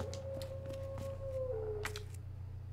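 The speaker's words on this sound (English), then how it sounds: "Sound like me howling for Ada." A long wavering howl from the Resident Evil 2 Remake video game, a single sustained tone that slowly bends downward over a steady low background hum, with faint scattered game noises around it.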